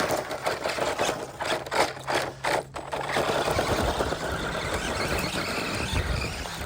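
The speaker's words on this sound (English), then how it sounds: "Now you get to try the square wheels on the Mini Max." A Mini Max RC car running on square wheels buzzes and whines with a rough, rattling motor drone, close by and steady after a few choppy revs at the start.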